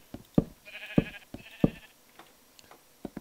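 Minecraft sheep bleat several times in short, nasal calls, with two longer baas in the middle and a few soft clicks and footsteps between them. The calls are fairly close and clear, with no talking.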